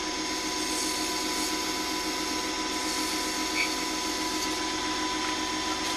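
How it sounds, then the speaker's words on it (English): Wet-dry sandpaper in 400 then 600 grit works a small turned miniature bowl, giving a continuous, even hiss over a steady motor whine with no pauses. "wet dry sandpaper. This is 400 grit. Then some 600 grit."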